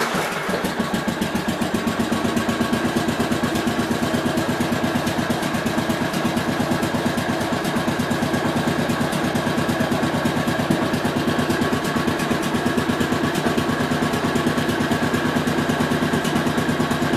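A 1967 430 engine idling during charging system testing, a steady, even, loud mechanical rumble with a rapid regular pulse that continues without change.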